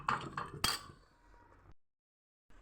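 Spatula clinks and scrapes as sesame and poppy-seed masala paste is stir-fried in a pan, a few sharp metallic knocks in the first second, then faint scraping that trails into silence before a brief final clink.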